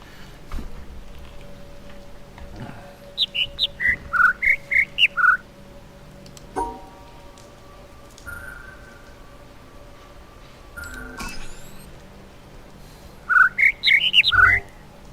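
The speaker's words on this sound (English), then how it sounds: "Yes, that's the sound birds make" Bird chirps from the video game The Witness come in two quick, sharp flurries of squawky twittering, with soft ambient tones and a few faint clicks and chimes between them; nobody speaks.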